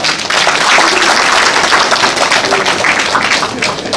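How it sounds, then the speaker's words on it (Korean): Broad, steady applause from a town-hall audience in Jecheon honoring the provincial governor and the city mayor, a dense wash of many hands clapping continuously from start to finish at a loud, even level. "이 두 분께 힘찬 박수 부탁드립니다"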